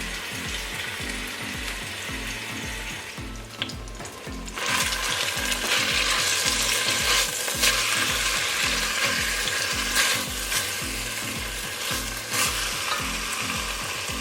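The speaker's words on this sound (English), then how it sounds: "in the skillet I'm just going to add a little bit of olive oil." Meat browns in olive oil in a hot skillet, a loud, steady sizzle and crackle running throughout with occasional scraping stirs and a slight rise in intensity partway through.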